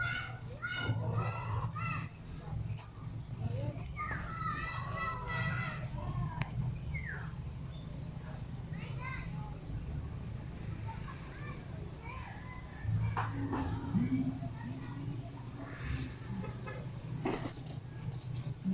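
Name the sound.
chickens settling to roost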